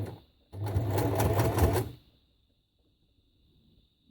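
A sewing machine stitches scrap fabric in a short, fast burst of rapid mechanical whirring and needle clatter, loud and close, then stops, leaving a faint steady tone before another click starts.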